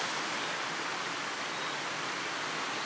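Water rushes down the stone water staircase in a château garden in Le Touvet, Isère, a dense, steady roar of cascading flow heard close and loud with no breaks.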